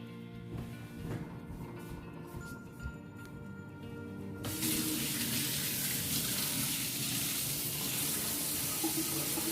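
Tap water gushes into a kitchen sink to rinse oil off an object in an Earth Day oil spill experiment, starting quietly then turning on loud and steady about halfway through, with no talking.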